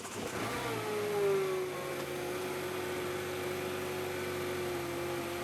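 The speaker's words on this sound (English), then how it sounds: "We start the engine and let it run to warm up." A Renault/Dacia 1.3 TCe engine idles while warming up, a steady close hum with a whining tone that settles lower after a brief rise early on.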